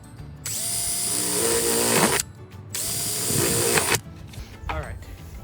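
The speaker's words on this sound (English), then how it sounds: "I'm gonna go ahead and drill a few more" A power drill bores holes in a DIY chicken feeder in two sustained, loud whining bursts of about a second and a half each, with brief pauses and handling noise between them.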